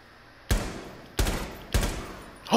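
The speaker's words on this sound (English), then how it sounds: "I was just shooting it to destroy it so I could see better, and then I just got the headshot" Three loud gunshots from a Rainbow Six match ring out about half a second apart, each a sharp crack with a short decaying tail, no talking over them.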